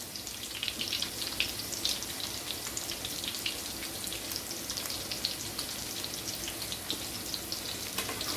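Chicken pieces fry in hot grease for chicken parmigiana, a steady, dense crackling sizzle with scattered pops that stays even and continuous throughout.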